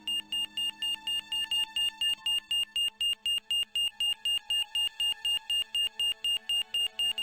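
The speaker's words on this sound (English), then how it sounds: "What's that noise? It sounds as if someone's having a cardiac arrest." Heart monitor alarm on a hospital ward in the Broken Sword adventure game, beeping in a steady rapid pulse of loud, high electronic tones for several seconds with no voices over it.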